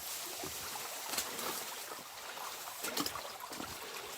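A creek flows beside a hiking trail, its water making a steady rushing wash with occasional sharper splashes and rustles rising out of the constant flow.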